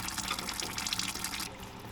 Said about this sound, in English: let's get the coolant out